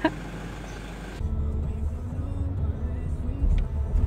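A learner driver's new car, driven during a practice session, gives a steady low engine rumble with faint voices in the background and a brief louder swell near the end.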